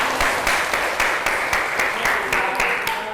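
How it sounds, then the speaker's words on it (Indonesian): Students in a school classroom clap together for classmates, a brisk rhythmic round of applause with evenly spaced group claps, close and lively. "Oke, tepuk tangan semuanya."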